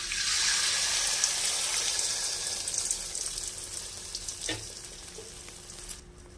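Beaten egg seasoned with pepper and salt poured into hot oil in a pan, giving a loud steady sizzle that fades slightly, with a few soft clicks near the end; no talking.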